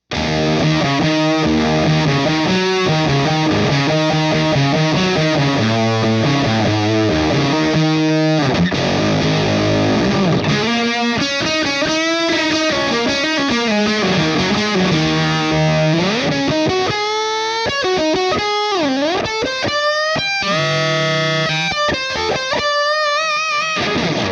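Heavily distorted electric guitar through a JHS Supreme distortion pedal in mid mode plays chords and bending lead lines, thick and saturated throughout, loud and continuous.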